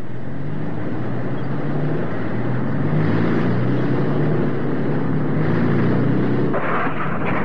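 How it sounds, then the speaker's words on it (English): Engines of a rescue recovery vehicle roar in a steady, loud, continuous drone with a low rumble, holding even throughout, no voices over it. "Recovery vehicle engines in transmission."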